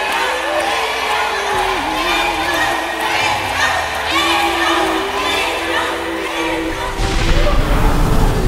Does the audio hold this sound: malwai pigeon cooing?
no